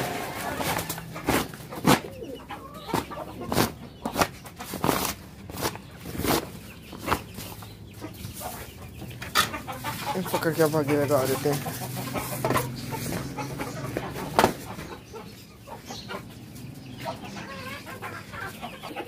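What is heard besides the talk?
chickens clucking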